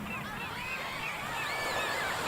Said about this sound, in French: Vous pouvez même entendre les mouettes.